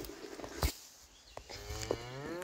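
A cow moos on a farm pasture, a single drawn-out, wavering low call rising near the end of a short stretch with a sharp knock early on and light background noise.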